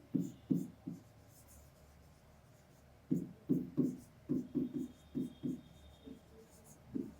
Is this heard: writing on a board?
yes